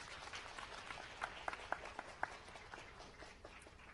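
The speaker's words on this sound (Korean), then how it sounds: "박수 부탁드리겠습니다" Audience applause at a Korean game creation audition event after a team's presentation: soft, distant crowd clapping with a few sharper nearby claps standing out briefly.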